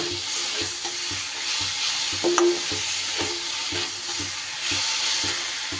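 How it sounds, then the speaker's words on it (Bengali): Sugar being stirred in a pan as it melts, with a steady soft sizzle and repeated scraping strokes of a spoon close by, one brief louder clack midway. "চিনিটা দিয়ে এবার যতক্ষণ না পর্যন্ত চিনি গলছে এইভাবে নাড়িয়ে চাড়িয়ে নেব।"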